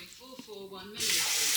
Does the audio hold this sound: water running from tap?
yes